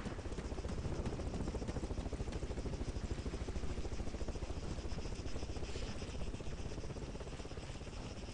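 Helicopter flying in the Arma 3 Epoch zombie-survival mod, a steady, dense rotor and engine drone with a rapid chopping pulse, holding constant loudness throughout with no speech over it.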